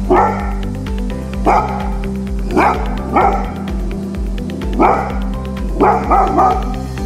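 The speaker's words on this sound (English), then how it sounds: "In our opinion, the Dogo Argentino has a powerful bark." A Dogo Argentino barks loudly and close by in repeated deep bursts, about seven in all, some coming as quick doubles, over a steady low hum.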